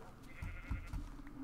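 A helpless sheep bleats in a video game while a pack of wolves gangs up on it, giving a few short, nasal cries that stand out over a faint background hum.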